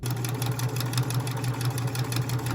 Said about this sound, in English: I'm going to take this to my sewing machine and I am going to sew around the outside edge